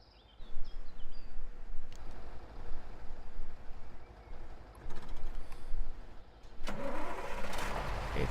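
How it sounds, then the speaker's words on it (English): In the Spintires: Mudrunner video game, a truck engine cranks and catches, then rumbles in uneven bursts with a few clunks, ending in a brighter rev. "It's enough on its side that I can start the engine."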